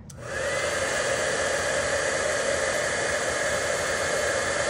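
A heat gun used for heat embossing blows with a steady, loud, continuous hissing roar that starts abruptly and holds constant throughout, with no talking.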